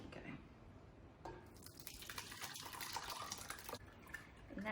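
Ricotta mixture poured into a strainer lined with doubled-over cheesecloth, a steady wet pouring and splashing rush that swells and continues for several seconds, fairly close, no voice.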